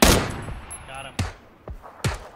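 Gunfire in the battle-royale game PlunkBat BattleBoyz: four sharp, loud shots spaced irregularly, the first strongest, with faint tones between them.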